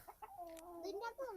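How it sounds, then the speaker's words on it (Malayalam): Chickens in a coop on a hill farmhouse in Cumbummettu cluck in a close, busy run of short calls and rising warbles, with a few sharper squawks, fairly quiet overall. "ഇതിനകത്ത് ഇഷ്ടം പോലെ കോഴി കിടപ്പുണ്ട് കണ്ടോ."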